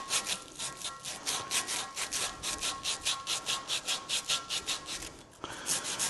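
Coarse 750 grit abrasive paper rubs back and forth in quick, rhythmic rasping strokes, about three per second, close and moderately quiet, with a brief pause near the end before the scrubbing starts again.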